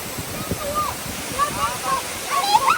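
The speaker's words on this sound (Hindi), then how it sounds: "ये चेक करे पानी का शोर और बहता हुआ तेज पानी" Fast-flowing water rushes steadily near a lake in Canada, a broad continuous roar with wind buffeting the microphone and someone talking over it.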